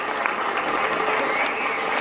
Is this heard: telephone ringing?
no